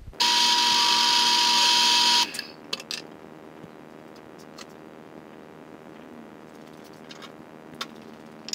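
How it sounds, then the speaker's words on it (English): A power drill bores down through a metal clutch pedal bracket on a 1999 Ford F250 with a ZF6 transmission, a loud steady whine for about two seconds that then stops, leaving faint workshop noise and small clicks. "We'll just drill straight down through this, just through that first side"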